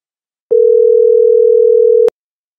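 A telephone line gives a single steady, pure electronic tone lasting about one and a half seconds before a voicemail, with silence before and after.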